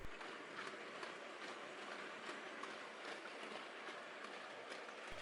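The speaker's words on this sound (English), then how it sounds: "This train is skirting around all of the down storage sidings and takes the extreme left hand end road" A model railway train runs along the down main line of a layout past storage sidings, giving a faint, steady rolling rumble with light rail clicks throughout, no voices.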